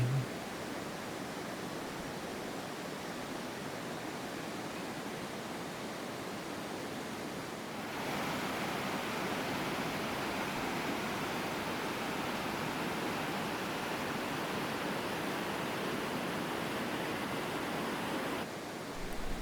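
A river flows beside a camping spot in the mountains with a steady, dense rush of water that holds constant for the whole stretch, broadband and fairly soft, with no voices.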